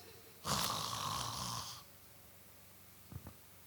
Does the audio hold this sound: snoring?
yes